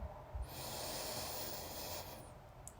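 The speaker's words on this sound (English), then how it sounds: "Now I want you to take a deep breath in" One long, deep breath drawn in slowly as a soft, airy hiss, faint and close, with no voices.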